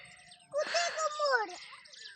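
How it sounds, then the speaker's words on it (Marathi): A single loud, wailing peacock call rises and falls for about a second in an otherwise quiet setting on a trek to a waterfall. "आणि अशा वातावरणात मोराचा आवाज येतो"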